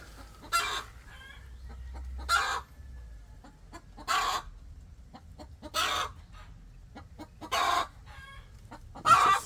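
Chickens clucking and crowing near pigeon lofts, with repeated loud crows at a steady interval of about two seconds over quiet background clucking and rustling.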